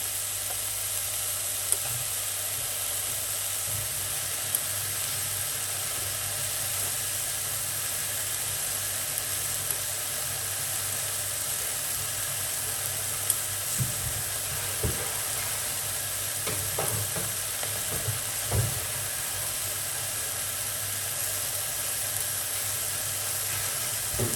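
Food sizzling and frying in a pan for a meat-free dinner, with occasional stirring scrapes and clinks over a steady hiss, no talk.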